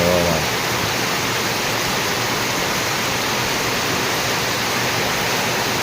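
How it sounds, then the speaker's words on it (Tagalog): A loud, unbroken roar of heavy rain with wind, thick and even throughout, briefly preceded by a faint voice at the start. "Lakas ng ulan. Kasama pang hangin."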